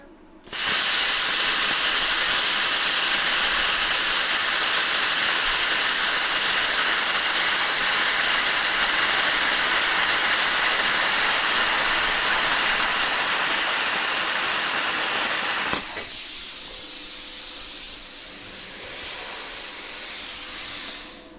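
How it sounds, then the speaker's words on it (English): A BestArc BTC500DP budget plasma cutter, running at 40 amps with 60 PSI of air, cuts quarter-inch aluminum with a loud, steady rushing hiss for about fifteen seconds, then settles into a slightly softer hiss of airflow. "Let's do a quick little cut on this 1/4 inch aluminum."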